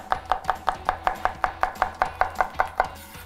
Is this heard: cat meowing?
no